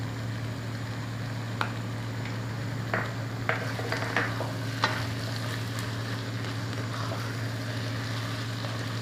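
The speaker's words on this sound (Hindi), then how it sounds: "अब वो सब्ज़ मिर्च जो हमने कटवाए वो अभी इसमें डाल लेते हैं।" Green chilies go into beef keema frying in a karahi, giving a steady sizzle with a constant low hum behind it and a few sharp clicks and scrapes of stirring, close by.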